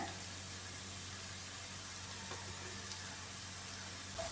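Kashmiri chilli powder and other spice powders sizzling in hot oil in a pan, a steady soft frying hiss running throughout with faint kitchen noise, no talking.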